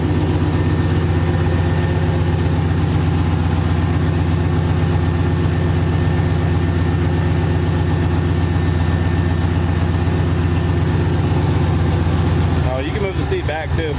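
Truck engine idling with a steady, deep low rumble that runs for most of the stretch, then ends in a brief burst of clatter and shifting noise near the end.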